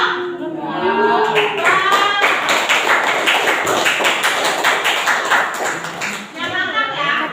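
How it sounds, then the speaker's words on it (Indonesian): A classroom of students applauds a student group after their presentation, steady clapping from many hands for several seconds, with voices mixed in at the start and end. "kasih tepuk tangannya untuk kelompok"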